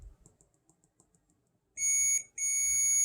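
A multimeter's continuity tester checking a Super Nintendo power supply gives a steady high-pitched electronic beep, sounding twice with a short break between, after a stretch of quiet light tapping and handling noises.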